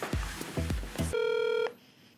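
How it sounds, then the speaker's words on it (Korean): A telephone call connecting for a live radio-style interview: a few low dialing or switching thumps followed by a single steady ringback tone, fairly loud and close, then a faint line hiss. "이제 이런 상황에 대해서 어렵게 섭외한 베테랑 경찰의 설명을 들어보기 위해서 전화 연결을 해보겠습니다"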